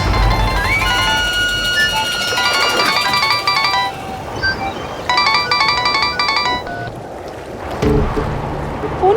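A phone ringtone plays a repeated electronic melody in bursts, loud over a constant wash of background noise before it cuts off.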